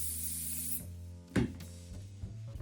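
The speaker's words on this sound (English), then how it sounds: "Another spray." An aerosol can sprays adhesive onto a model tree armature for an OO9 narrow gauge railway layout, with a steady close hiss for under a second, then a short handling clatter and quiet shuffling.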